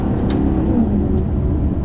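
A heavy Maserati GranTurismo engine revs loudly and close by, a steady deep roar with no pauses, heard on its own without speech.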